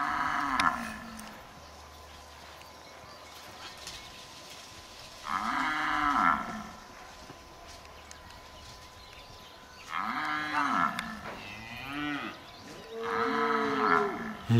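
Cattle mooing on a farm near Kilgoris, with several long, loud bellowing calls that come in separate bursts and clusters across the stretch, each rising and falling, heard against a quiet background.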